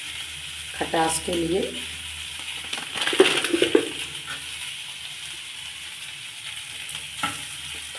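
Potato mixture with turmeric frying and being stirred in a pan, a soft sizzle with scraping stir strokes and brief clatters near the start, then a steady low hiss; someone speaks briefly.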